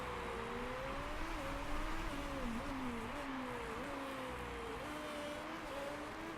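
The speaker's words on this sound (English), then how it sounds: "the car in 17th is roaring behind him" A race car engine in the Motorsport Manager video game drones steadily at mid distance, its pitch rising and falling with the revs, set against constant background noise, with no talking.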